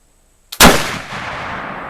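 A Traditions flintlock muzzleloader loaded with a black powder pellet fires once: a brief priming hiss, then a single loud, close blast that rolls off into a long outdoor echo.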